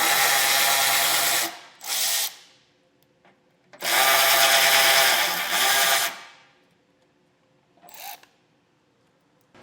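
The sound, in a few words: removing 10mm bolts from Jeep grill support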